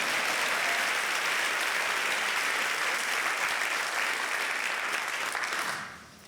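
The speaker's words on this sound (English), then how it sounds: "you can clap for Dennis." Loud, dense applause from a large crowd at a university convocation, sustained evenly for several seconds before tapering off at the end.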